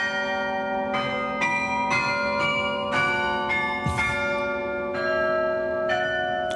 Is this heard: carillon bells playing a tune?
yes